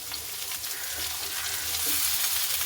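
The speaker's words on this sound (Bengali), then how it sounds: "মূলগুলোকে আমি দু এক মিনিট ভেজে নেব এবার আমি সেই ফুলকপির ডাটাগুলোকে দিয়ে দিব" Cauliflower stems frying in a pan give a dense, continuous sizzle that stays close and fairly loud, rising slightly toward the end.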